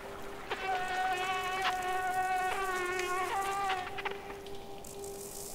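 Buzzing mosquito from the video game Limbo, a steady whining drone with stacked tonal layers that rises and falls in pitch across several seconds, with no talk over it.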